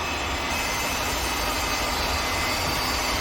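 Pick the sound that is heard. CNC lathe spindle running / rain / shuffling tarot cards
CNC lathe spindle running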